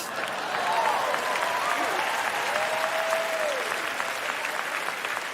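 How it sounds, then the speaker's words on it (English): Steady applause from an audience, a dense even clatter of clapping that holds at a constant level for several seconds. "You don't have to hold the applause inside, Ted."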